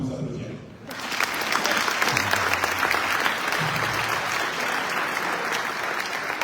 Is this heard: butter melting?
no